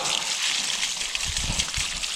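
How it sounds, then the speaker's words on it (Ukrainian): Strawberry seedling roots are rinsed in a bucket of water outdoors, giving a steady, dense wash of sloshing water noise that stays close and continuous for a couple of seconds. "Там стоять відра з водою спеціально, щоб обмивати корінь"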